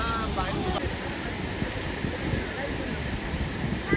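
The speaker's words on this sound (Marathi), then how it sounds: "पाण्याचा खळखळणारा आवाज पाहून तुम्हाला कळालंच असेल की हा प्रवाह किती प्रचंड आहे ते" Gushing water at Sahastrakund waterfall, a dense continuous roar of rushing flow heard close and steady throughout, with wind buffeting the microphone.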